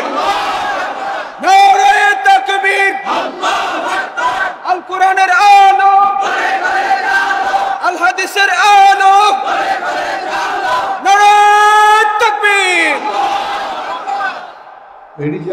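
A large crowd at an Islamic sermon gathering chants takbir in loud unison, with repeated drawn-out calls rising and falling together in several waves.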